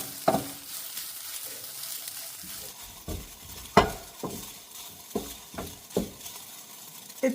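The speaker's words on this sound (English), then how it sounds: "And start cooking and frying up the rice." Rice with egg sizzles in a frying pan with a garlic salt and pepper blend, a soft continuous hiss. Repeated scraping stirs and occasional utensil clinks against the pan break through at an uneven rhythm.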